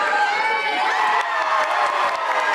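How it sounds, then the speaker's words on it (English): Children and fans cheering from the sideline and stands at a youth basketball game, a steady, dense crowd roar with excited high-pitched shouts running throughout. "the kids on the sideline are cheering"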